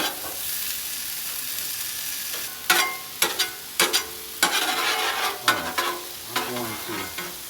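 Lo mein frying on a Blackstone 22 inch griddle, a steady sizzle broken by repeated metallic spatula scrapes and clanks that come in irregular bursts, close and fairly loud.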